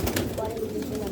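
Pigeons in a loft coo low and steadily under a voice speaking over them, close by.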